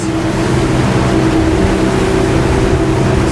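A 2022 Regal 38 SAV day boat with 900 horsepower runs through waves at about 3,800 rpm and 27 knots, giving a loud, steady engine drone with water rushing over the hull.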